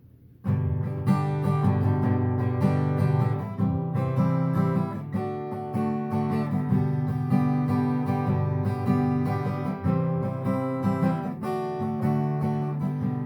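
Steady acoustic guitar strumming at full speed, full chords ringing with a quick, even rhythm that continues throughout, close and fairly loud with no voices.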